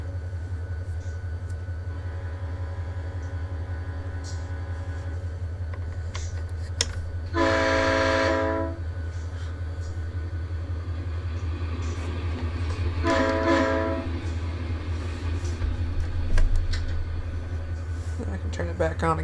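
A train rolls past with a steady low rumble throughout, sounding two loud horn blasts, the second shorter, in the Run8 Train Simulator game.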